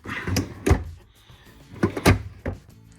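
Drawer in a Forest River Riverstone 39RKFB fifth wheel RV being handled, with a few sharp knocks and sliding thumps in two clusters, loud and close, with no voices.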